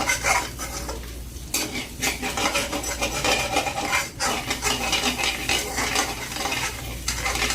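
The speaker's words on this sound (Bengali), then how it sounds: "ঠিক আমি এভাবে ডিমগুলোকে করে ভাজি করে নেব।" Eggs fry in a pan while a spatula stirs and scrapes them constantly, a close, continuous sizzle broken by repeated metallic scraping strokes with no talk.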